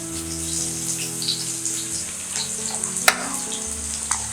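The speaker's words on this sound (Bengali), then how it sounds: "দেখতে পাচ্ছেন পেঁয়াজ ভাজা ভাজা হয়ে আসছে" Chopped onion and garlic fry in hot oil with a steady, close sizzle, interrupted by a few sharp clicks and scrapes of stirring; no voices.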